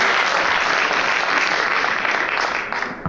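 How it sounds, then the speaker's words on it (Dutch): An audience at a local election debate between party leaders in Venray applauds a candidate, a dense burst of clapping that holds steady before thinning out at the end. "Mag een applaus voor André van Maaskolkewaard"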